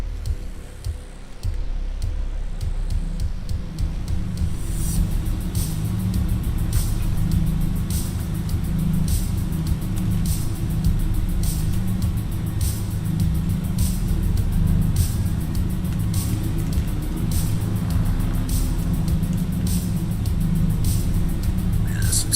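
A BMW GT-class race car engine in the driving game Assetto Corsa EVO holds a steady, loud drone at sustained revs throughout, with a brief rising pitch sweep late on and faint regular ticking above it.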